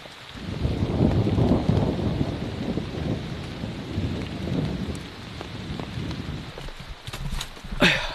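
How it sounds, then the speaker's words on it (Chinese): Steady rain in a tropical rainforest with low rumbles of thunder rolling through, loud at first then easing, with a few sharper cracks near the end. "雨终于小点了，但不过现在还在打雷"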